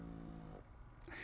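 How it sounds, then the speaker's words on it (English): Loud, rumbling snoring close by, one drawn-out breath with a rough, buzzing tone. "Very loud snoring."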